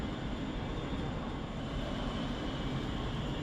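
A ScotRail Class 380 three-car Siemens electric multiple unit at platform 15 of Glasgow Central Station, heard as a steady broadband rumble and hum that fills the whole stretch with no speech over it.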